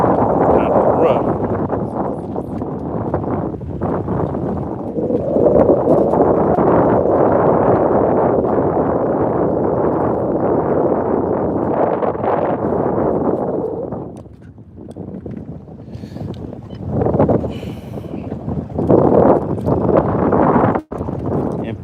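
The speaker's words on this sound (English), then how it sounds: "the wind out here is kind of rough." Strong wind buffets the microphone out on Lake Lanier during a bass fishing trip, a loud, steady roar that holds for long stretches and then eases into gusts.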